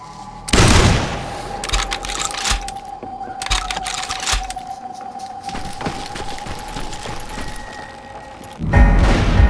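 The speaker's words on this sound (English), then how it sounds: "He was shooting at me from a rooftop." Gunshots ring out from a rooftop in the Wild West shooter Call of Juarez: Gunslinger, with a loud blast at the start, scattered cracks of fire, a steady whining tone beneath, and another heavy burst near the end.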